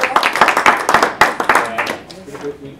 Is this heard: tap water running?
no